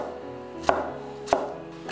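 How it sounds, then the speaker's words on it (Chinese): A kitchen knife chops carrot and yam into small dice on a cutting board, two sharp, evenly spaced close thuds over quiet background. "把胡萝卜和山药给它切一下，先把它破开，同样的要给它切粒"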